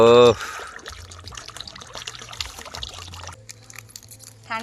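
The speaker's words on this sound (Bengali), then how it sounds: "তাহলে এর মধ্যে আবার ঠান্ডা জল দিতে হবে" Cold water is poured into a glass of sherbet in a Sundarbans village home, a close trickling pour that runs for a few seconds while a person speaks nearby.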